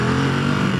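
A 2021 Ducati Monster motorcycle's engine drones steadily and loudly while being ridden in Mumbai, a continuous dense rumble with no talk over it.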